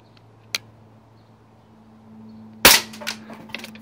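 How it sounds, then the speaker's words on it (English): An Umarex XBG CO2 BB pistol fires outdoors, a faint pop early on followed by a sharper crack and a metallic ricochet off a can, then a few small rattling ticks fading out. "I did, and it did ricochet."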